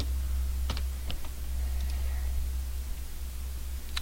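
Someone types a password on a computer keyboard, a few sparse, quiet key clicks over a steady low hum.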